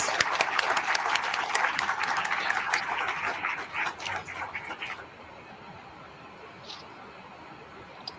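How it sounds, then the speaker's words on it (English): At an International Women's Day celebration, an audience welcomes the Indian ambassador with applause that rolls steadily for about five seconds, then stops abruptly, leaving a quiet room with only a faint sound afterward. "Let us welcome him with a big round of applause."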